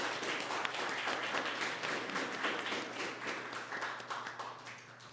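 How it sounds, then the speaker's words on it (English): Audience at a school district board of education meeting applauds, a steady wash of many hands clapping that stays fairly quiet and distant and fades slightly toward the end, with no talk over it. "if we could just give him a round of applause for the hard work that he does every day"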